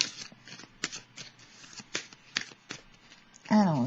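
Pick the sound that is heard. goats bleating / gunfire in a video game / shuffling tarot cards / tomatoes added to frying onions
shuffling tarot cards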